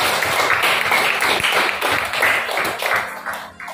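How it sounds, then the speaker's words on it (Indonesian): A secondary school class of students in a classroom applauds together, a dense, close burst of many hands clapping that holds for several seconds before thinning out. "Tepuk tangan sekali lagi."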